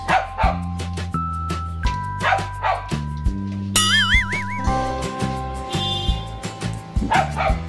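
A dog barks and yips repeatedly in short bursts, close and loud, over music with sustained tones and a warbling synth passage.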